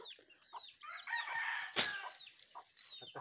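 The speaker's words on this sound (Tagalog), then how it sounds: "yung mistisang manok mga idol, oh" A red-faced mestiza hen clucks near her three chicks, whose high thin peeps keep coming. A sudden loud squawk cuts through midway, all close and outdoors.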